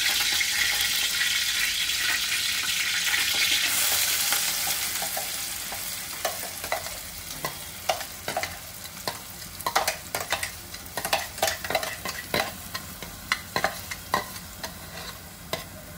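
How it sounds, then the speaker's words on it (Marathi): Malvani-style ground masala paste sautés in a pan, starting as a steady sizzle that thins out as stirring brings a run of sharp clattering scrapes and taps. "ते वाटप टाकून झालेलं आहे. आता परतून घेते."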